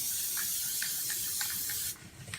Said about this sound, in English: But I'm going to spray the bottom.